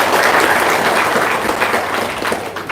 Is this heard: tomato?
no